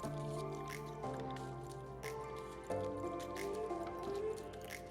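Dough for aloo paratha is kneaded by hand as room-temperature water is added bit by bit, giving faint, close, wet squishing and soft sticky pressing sounds in an uneven rhythm.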